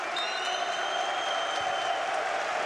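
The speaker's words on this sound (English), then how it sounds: "And a huge cheer you can hear is for Bojan Bogdanovic returning off the Croatian bench." A basketball arena crowd cheers steadily at a FIBA Olympic Qualifying Tournament game between Brazil and Croatia as Bojan Bogdanovic returns off the Croatian bench, a broad sustained roar with some whistles.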